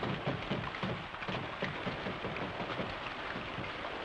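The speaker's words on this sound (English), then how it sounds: "Holy smokes, it's raining." Rain pours steadily in a thunderstorm in a Western film scene, a dense continuous hiss with low rumbling underneath, no voices.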